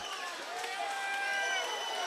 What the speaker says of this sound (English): The crowd definitely into it.